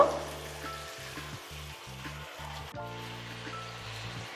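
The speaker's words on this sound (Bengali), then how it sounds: "মাছটা দিয়ে আমি প্রায় পাঁচ মিনিটের মতো একটু হালকা কষায় নিব" Hilsa fish sautéing lightly in spices in a pan gives a soft, continuous sizzle under steady background music, moderately quiet throughout.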